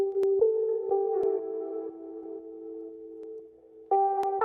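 Sustained synth chords drenched in a Valhalla hall reverb, sidechain-compressed to the kick in a pop production of a cover song, swell and duck in a pumping rhythm with sharp clicks between the held notes.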